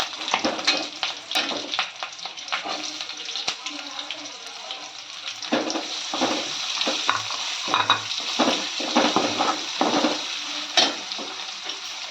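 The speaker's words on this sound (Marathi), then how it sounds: "आता ह्याच्यामध्ये आपण कढीपत्ता आणि कांदा ॲड करणार आहोत" Curry leaves and onion fry in hot oil in a pan for dal palak, a continuous crackling sizzle broken by repeated scraping stirs, with a voice talking faintly beneath it.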